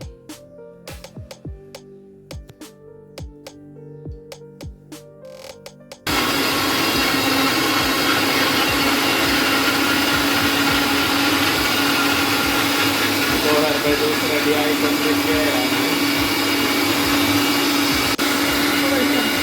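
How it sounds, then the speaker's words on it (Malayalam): An electric mixer grinder blends a herbal juice of milk and syrup. A few seconds of talking come first, then the motor starts abruptly and runs as a loud, steady, high whirring roar to the end. "ഇപ്പോൾ ഒരു രണ്ട് മിനിറ്റ് മിക്സിയിൽ നമ്മൾ അടിച്ചിട്ടുണ്ട്"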